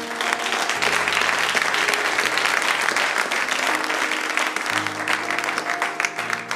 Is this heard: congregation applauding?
yes